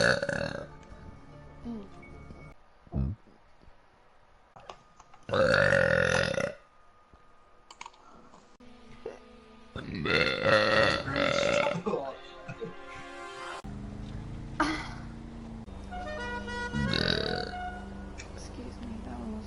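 Loud, drawn-out belches from a gamer girl, several separate burps spread over the span, close to the mic, with talk and game audio between them.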